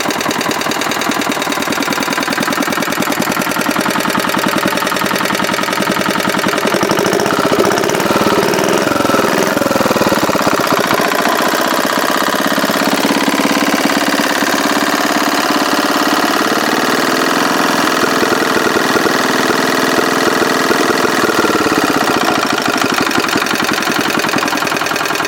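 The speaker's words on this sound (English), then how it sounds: "a nice little engine" A small 1949 Clinton engine idles steadily for the whole stretch, a close, even, chugging rumble with a slight knock and no talking over it.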